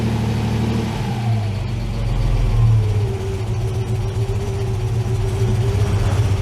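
Ford Capri MK1 engine, a car sitting for eight years, runs on choke with a steady, fairly loud mid-pitched drone, briefly higher at first and then settling into an even idle.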